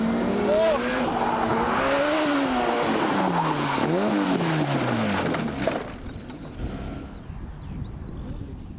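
Ford RS200 rally car skidding and crashing, a loud engine wailing and sliding with rising and falling pitch and tire squeal, then cutting out into quieter rumbling and scraping after about six seconds.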